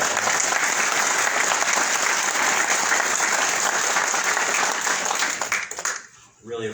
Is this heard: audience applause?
yes